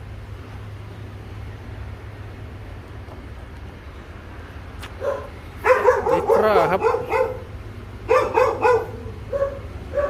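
A dog barks in two bursts of several sharp barks each, near and loud, after a quiet stretch with a low hum. Someone speaks briefly.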